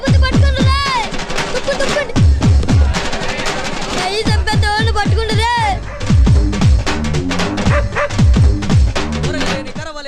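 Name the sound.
dog barking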